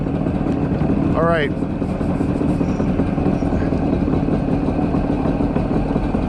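A Yamaha WaveRunner 500cc jet ski engine idling with a steady, continuous drone; someone speaks briefly over it.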